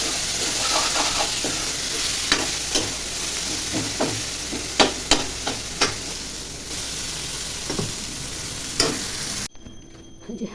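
Mashed roasted eggplant fries in hot oil with a continuous close sizzle, broken by sharp clicks and scrapes of stirring, before cutting off abruptly near the end.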